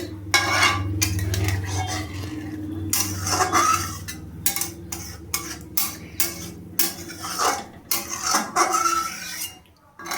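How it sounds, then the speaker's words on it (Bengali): A spoon stirs raw-banana kofta curry in a pot after water is added, giving rapid irregular metallic scrapes and clinks against the pot with a low hum beneath, close and fairly loud, no talking. "এবার আমি একটু ভালোভাবে নাড়িয়ে"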